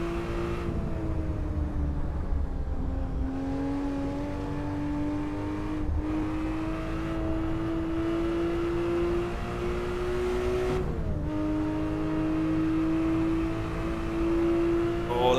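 A race car engine in a racing video game holds a steady high drone that climbs slowly in pitch, dips briefly at each gear shift around the fourth, sixth and eleventh seconds, then keeps rising, loud and continuous with no talk.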